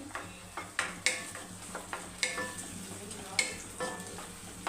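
Ground tomato masala paste for fish curry sizzles and spits steadily in a hot pan while a spoon scrapes and stirs it in repeated strokes, close by, with no talking.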